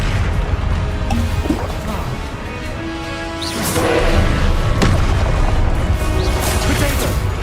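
A Confringo fire spell bursting in the Hogwarts Legacy game, a loud booming blast over a constant dense background roar, with a second surge of noise partway through.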